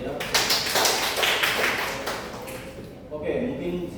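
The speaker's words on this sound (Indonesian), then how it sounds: "Kita beri aplaus dulu untuk Alia." A classroom group applauds a student named Alia during a micro-teaching lesson, a dense patter of hand claps lasting a few seconds that thins out and fades at the end, with voices nearby.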